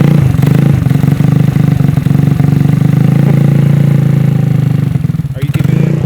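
A cold GY6 engine on a Honda Ruckus scooter runs close by with a steady, uneven putter and rough idle that never smooths out. Voices talk over it.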